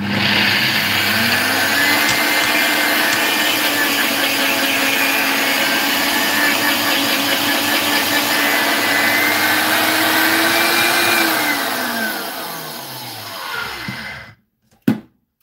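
A blender whirs steadily as it blends an herbal mix, a loud continuous motor drone that holds for about twelve seconds, then winds down and stops, followed by a short knock.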